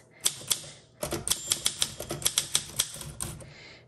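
Keys strike on a 1958 Olympia SM4 manual typewriter, a close, crisp burst of rapid clacks after two isolated taps, ending with a brief mechanical rattle.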